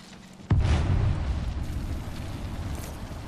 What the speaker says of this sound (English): Eat a thermite grenade.